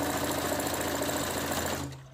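Sewing machine stitching a seam in a wig cap, a continuous fast whirring hum heard close, winding down and stopping near the end.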